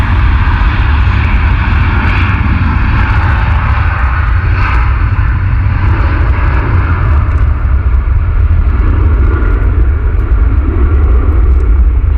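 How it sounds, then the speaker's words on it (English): Concorde landing at Manchester airport, its engines giving a loud, continuous, deep roar that holds steady throughout, close and heavy, with no talk. "It was the final time that Concorde came in to land at Manchester"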